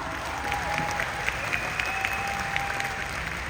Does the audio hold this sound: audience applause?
yes